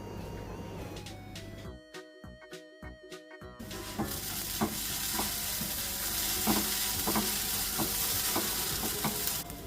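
Sabudana khichdi steams in a covered pan over medium heat, giving a steady close sizzle with soft irregular ticks and clinks; a few sharp stirring scrapes come first, then the hiss settles and holds.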